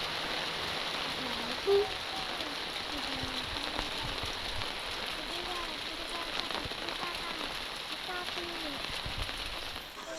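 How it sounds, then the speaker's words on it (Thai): Steady rain falls on surfaces outdoors, a dense continuous patter of drops at moderate level throughout, with a faint voice briefly audible. "ฝนตกมาอีกแล้วฝนตกมาแล้ว"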